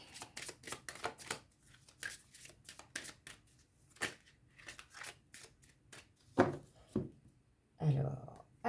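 A Petit Lenormand oracle card deck being shuffled and cut by hand, a run of crisp riffling snaps and flicks in quick bursts, close up, with a voice speaking briefly near the end.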